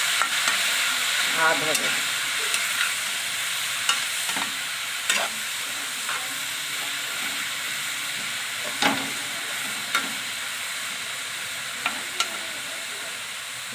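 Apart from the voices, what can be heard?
grated carrots frying in ghee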